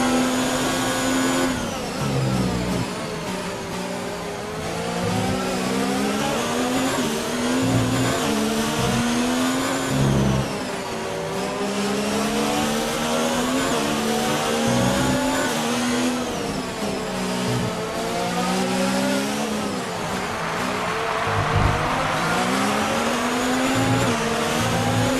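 A Formula 1 car engine in the F1 2019 video game at the Barcelona circuit, with slight power loss and minor wear, screams continuously at high revs, rising and falling through gear shifts and corners for the whole stretch, loud and close.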